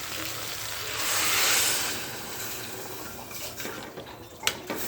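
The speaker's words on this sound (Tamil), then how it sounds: "தேவையான அளவு தண்ணி ஊற்றிக்கலாம்" Water pours steadily into a pressure cooker holding tapioca kurma with green chillies, a continuous splashing gush that swells early then settles, ending with a few clinks.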